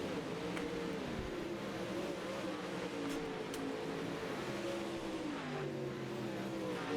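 Pro Late Model race cars at Volusia Speedway, engines droning and rising in pitch as the pack exits turns three and four, loud overlapping revving from several cars with no voices.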